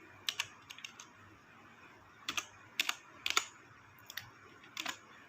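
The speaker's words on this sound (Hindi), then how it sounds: "तो चलिए हम टाइप कर लेते हैं" Typing on a computer keyboard while entering a formula in an Excel spreadsheet: crisp, close key clicks in short irregular bursts, alone and fairly quiet.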